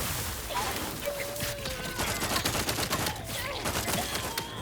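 Rapid bursts of gunfire from a gun in the sci-fi shooter The Outer Worlds 2, dense and continuous over several seconds, with faint in-game sounds underneath.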